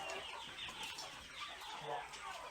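Chickens on a poultry farm in Ghana cluck continuously in a dense flock chorus, with soft overlapping calls over a steady, fairly faint background.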